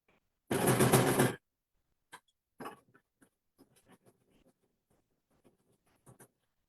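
A sewing machine stitches a quilt block in one fast, loud burst lasting under a second, followed by scattered light clicks and handling taps in an otherwise quiet room.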